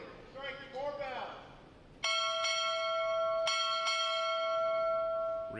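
A ship's bell rings out loud and clear, struck in quick spaced pairs for the arrival of the official party at a U.S. Navy Recruit Training Command graduation ceremony in Great Lakes, Illinois, after a brief spoken announcement.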